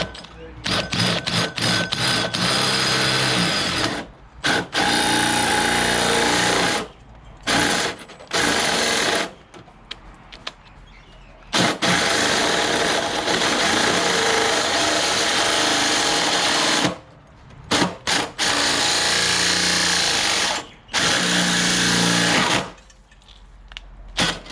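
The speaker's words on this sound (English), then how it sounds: "drilling that hole really makes a difference" A drill bores into rusty body metal on a Suzuki Vitara in repeated whirring bursts, close and loud, broken by short silent pauses between passes.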